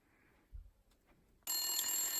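A telephone starts ringing suddenly after near silence, a bright, loud and continuous electronic ring that carries on to the end, preceded by a faint thump.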